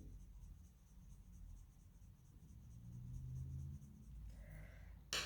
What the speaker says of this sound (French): les Procolor, ils grattent le papier quand même souvent